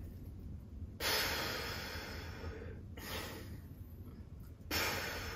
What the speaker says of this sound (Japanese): これがいびきなんだよね